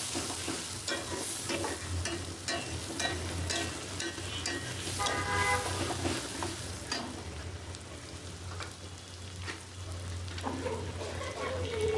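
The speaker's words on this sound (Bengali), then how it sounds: "তো পেঁয়াজটা একটু ভাজা হতে থাকুক" Chopped onions fry in a pan, a continuous low sizzle broken by repeated scraping and stirring strokes, close and fairly quiet throughout.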